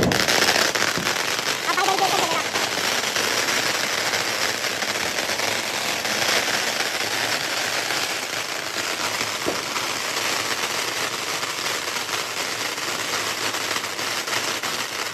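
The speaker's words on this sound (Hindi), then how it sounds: "डब्बड़ क्यों उतार रहा है भाई ये सबसे अलग बम है" Firecracker bombs and fireworks burst outdoors during a celebration, a dense, continuous crackling roar that stays loud throughout while people talk over it.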